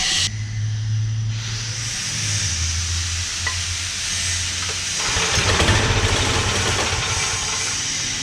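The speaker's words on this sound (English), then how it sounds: "So I'm just gonna see if I can use some starting fluid, see if that helps." An 18 hp go-kart engine is cranked after starting fluid is sprayed. A low rumbling drone runs for a few seconds and then gives way to a loud, rough, hissing burst of engine noise close by.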